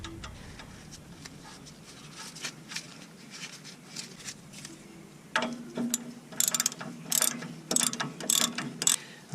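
Close ratcheting clicks come as a nut is threaded onto an axle bolt on a 1994-2001 Acura Integra, with light tool handling at first, then louder bursts of rapid ratchet strokes.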